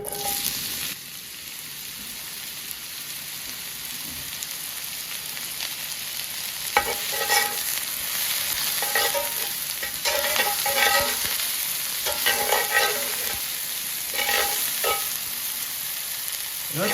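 Onions sweating in extra virgin olive oil over medium-low heat for a ground beef casserole, a soft continuous sizzle up close with bursts of spatula stirring scattered through, no voices.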